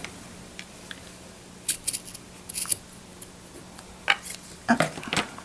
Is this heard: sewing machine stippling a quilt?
no